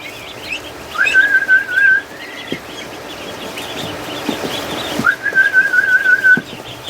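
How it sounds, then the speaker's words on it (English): A person whistles two long, steady, high notes separated by a pause to call ducks, with faint clucking and bird calls from fowl nearby. "And the more I whistle, the more ducks comes in"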